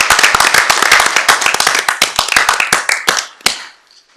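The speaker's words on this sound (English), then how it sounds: "I would ask everyone to give these two amazing leaders a strong round of applause" Audience at a school board meeting gives a round of applause, a loud, close burst of many hands clapping that thins out and fades to scattered claps within a few seconds.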